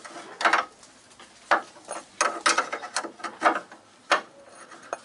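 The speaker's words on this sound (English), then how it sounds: "that's that bolt on the rose joint cracked off" A wrench works on a bolt at the rose joint of a Mini Cooper race car, giving close, loud bursts of gritty ratcheting and rasping in uneven clusters with short pauses between them.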